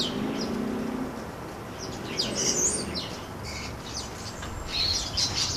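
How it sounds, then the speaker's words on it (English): A noisy group of starlings, juveniles and adults, bustling and squabbling at a garden feeder alongside a pigeon and a dove, giving scattered chirps and squeaky calls over a steady background hiss, moderately faint. "The juvenile starlings no longer beg for food and bustle in and squabble just like the adults."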